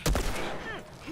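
Gunshot in The Last of Us video game: one sharp, loud close blast at the start followed by a decaying tail and a faint later echo, with no talk.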